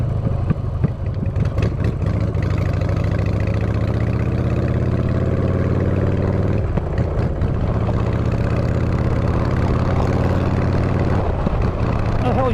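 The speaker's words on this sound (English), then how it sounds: "We got a tractor." A tractor engine runs steadily at a loud, close idle with a deep, low rumble, rising slightly as it revs at moments, with no one speaking.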